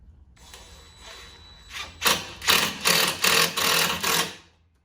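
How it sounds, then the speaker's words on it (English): Power driver sinking screws to fasten a board to a metal frame for a homemade center console in a 2005 Toyota Tacoma: a quiet whir builds into five or six close, loud buzzing bursts in a steady rhythm, with no speech. "now I'll attach this board to that metal frame"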